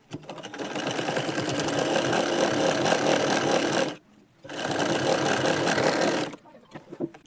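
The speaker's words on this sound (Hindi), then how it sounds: "तो देखिए इस तरह से सिलाई हमने लगा ली है" A sewing machine runs steadily, stitching piping onto a lined blouse, in two long continuous bursts separated by a brief pause, loud and close with a rapid mechanical whir.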